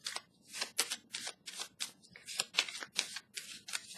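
A tarot deck being handled while drawing a card: a rapid series of close, papery riffles and card slides in a quick, uneven rhythm, quiet and with no voice.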